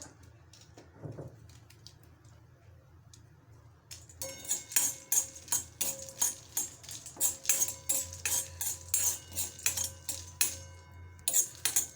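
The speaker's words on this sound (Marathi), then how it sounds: "आता मी वेलची भाजून घेत आहे" Whole cardamom pods roasting in a pan for a chai spice mix, with a quiet start and then a rapid, steady rattle and clatter of dry pods jostling and stirred against the metal from about four seconds on.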